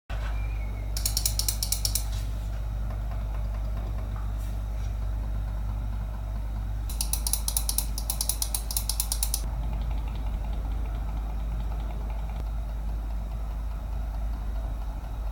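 Quiet clicks from the switches of a Logitech MX Master 4 mouse come in two short bursts of rapid, soft ticks over a low steady hum.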